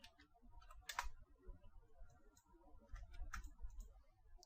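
Computer keyboard typing, a few quiet clicks and taps in irregular bursts with brief pauses between keystrokes, close and faint in an otherwise quiet room.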